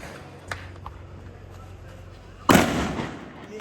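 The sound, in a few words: firecrackers going off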